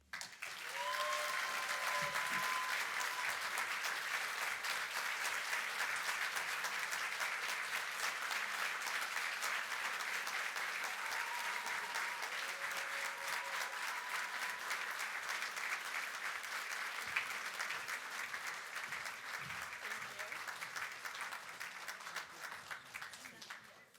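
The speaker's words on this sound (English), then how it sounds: "Wow, a standing ovation." A standing ovation after an award acceptance speech: sustained, dense applause from a large audience fills the room for over twenty seconds at an even level, with a few faint voices calling out beneath the clapping.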